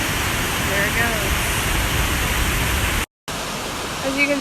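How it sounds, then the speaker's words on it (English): A waterfall pours in a nature setting with a broad, steady rush of water that fills the scene, loud and continuous, with faint voices underneath and a brief cut to silence. "there's a nice lovely waterfall."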